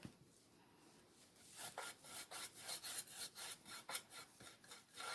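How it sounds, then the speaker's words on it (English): Waverly chalk paint with antique wax being brushed onto a wooden box decoration, heard as a run of close, dry, rhythmic bristle strokes scraping back and forth across the wood. "Give this a coat of the Waverly chalk paint, the antique wax."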